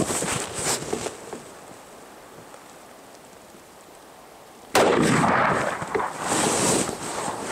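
Two loud, sharp rifle reports from a 30-06 or 7mm PRC fire outdoors during a precision hunting match, one near the start and another later, each followed by a rolling boom over wind noise.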